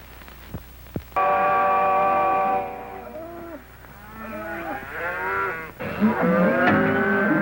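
Cattle on an open range moo and low repeatedly, several animals calling over one another in a loud, continuous chorus of overlapping bellows after a brief quieter start.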